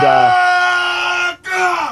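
Panicked villagers scream loudly in a crowd for a film scene, a sustained, close, strained wail with a brief dip before the cries resume.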